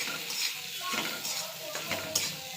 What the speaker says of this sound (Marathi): हे जरा आपण परतून घ्यायचं आहे.